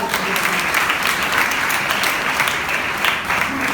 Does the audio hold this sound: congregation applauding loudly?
yes